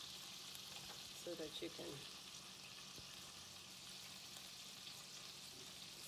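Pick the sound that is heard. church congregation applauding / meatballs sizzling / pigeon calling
meatballs sizzling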